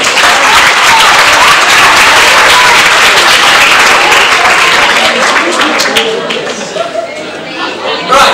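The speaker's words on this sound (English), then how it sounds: "Give him a round of applause." An audience at a physics talk at a science festival breaks into loud, sustained applause that fades out after several seconds, with some chatter as it dies down.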